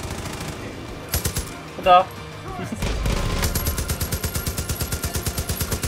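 Automatic weapon fire from the Far Cry 5 video game: scattered shots and a boom, then a long, steady burst of rapid machine-gun fire, with a player briefly talking over it.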